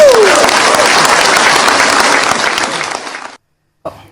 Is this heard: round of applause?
yes